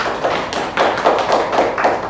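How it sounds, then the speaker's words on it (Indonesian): A class of pupils claps hands together in a roughly regular pattern of soft, dull taps, around a half-dozen beats in about two seconds, close and fairly quiet. "Tepuk tangan untuk kita semua"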